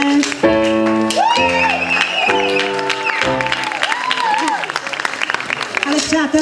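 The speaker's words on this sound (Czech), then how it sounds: "Ale přátelé, tleskáte příliš málo na to, že jsou to tak milí lidé." Crowd applauding players and referees introduced one by one at a Reds versus Yellows match, clapping in bursts under a loud announcer's voice and music, with some shouts and whoops.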